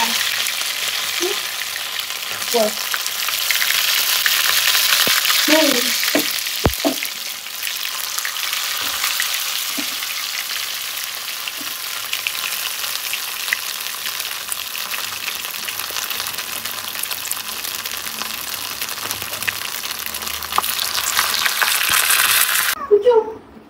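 Sausages fry in hot oil in a pan, a loud continuous sizzle and spatter close up lasting throughout, with a few faint knocks and brief voices, ending abruptly.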